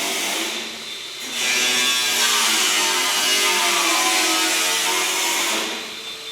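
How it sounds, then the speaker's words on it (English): Brake cleaner sprays from an aerosol can onto an engine surface during the rebuild of a Series 3 Land Rover engine, a steady loud hiss lasting several seconds with a quieter lead-in. "A bit of brake cleaner."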